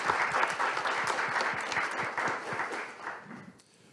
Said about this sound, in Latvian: Un aplausi tad trešiem runātājiem.